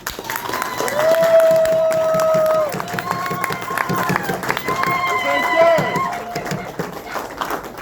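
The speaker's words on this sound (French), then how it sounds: "Vous pouvez donc l'applaudir frénétiquement." An audience at a university thesis ceremony in Kinshasa applauds and cheers loudly. Sustained high vocal cries and whoops ride over dense clapping, and the noise rises and falls across the stretch.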